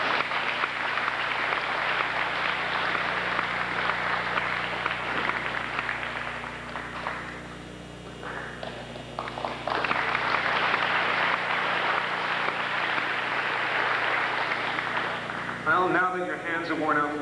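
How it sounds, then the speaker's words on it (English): Sustained applause from an audience fills a hall at a 1987 martial arts demonstration in Scarborough, Ontario, dipping briefly mid-way before surging again, with a voice starting to speak at the close. "Worn out from applauding."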